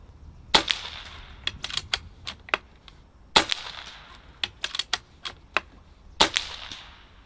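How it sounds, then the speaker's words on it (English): Barra 250z air rifle firing pellets at backyard targets 30 yards away, three sharp near cracks spaced a few seconds apart, each followed by several quicker faint clicks and ticks of cocking and loading. "I just love this thing. It just eats up these pellets."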